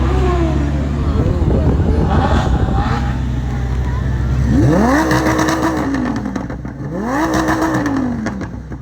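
A Porsche sports car set up for the track revs hard during a Fourth of July parade, its engine climbing and falling in repeated loud sweeps with exhaust pops, while people talk nearby.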